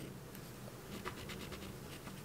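A pen scratches across paper in short, quick strokes, close and quiet, over a soft steady background hiss.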